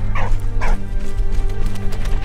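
A dog barks twice in quick succession in the video game Valiant Hearts, close and loud over a steady low game background.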